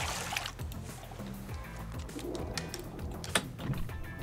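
Seagulls in the survival video game Raft give short cooing, squawking calls over a steady watery, trickling ambience, a few bird cries standing out close by at moderate volume.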